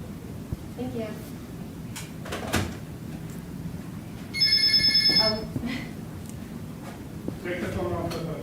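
A telephone rings once in a bright electronic burst during a live community broadcast, set against steady room noise and scattered knocks, with people talking around it.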